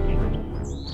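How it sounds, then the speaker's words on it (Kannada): A bird chirps in a children's story, giving a few short, bright, whistled tweets over a steady background, with no speech. "ಪಕ್ಷಿ ಕೂಗುವುದು"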